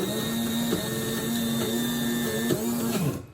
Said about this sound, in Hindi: तो वो मैं पीस लूँगी